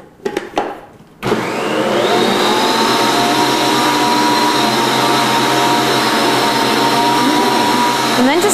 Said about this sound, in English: Need something more substantial like a hook in order to mix a stiff dough like this.